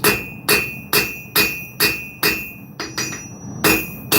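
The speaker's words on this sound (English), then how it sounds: "Also uneven hammer strokes." A hammer strikes hot metal on an anvil at a forge in a steady rhythm of about nine sharp ringing blows, each followed by a short decay, loud and close with no voices.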